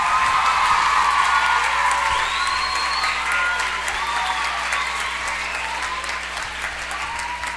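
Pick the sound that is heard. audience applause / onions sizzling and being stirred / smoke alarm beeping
audience applause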